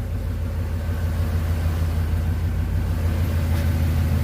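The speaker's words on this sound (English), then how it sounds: "What the engine sound like? Engine sounding good?" A 1996 Chevrolet Caprice engine idles in a steady, loud, continuous low rumble that holds evenly throughout, with no talk over it.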